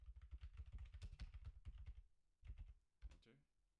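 Fingers type quickly on a computer keyboard in a rapid, close burst of clicks. After a short pause, a few more separate keystrokes follow, and no one speaks.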